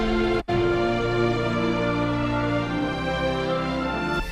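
Full orchestral mix run through a Greg Wells MixCentric processing plugin, a sustained, dense blend of strings and low instruments with a brief dropout near the start, playing alone at a steady level.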